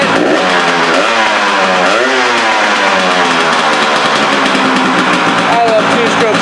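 KTM TE 300 two-stroke motorcycle engine revving while warming up, loud and close, with repeated rising and falling blips over a raspy continuous drone that fills the whole stretch.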